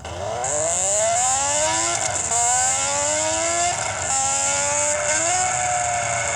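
Synthetic car engine from an Android engine sound app revs up hard and climbs through the gears, pitch rising in repeated sweeps with brief drops at each shift, loud and steady throughout with no talking.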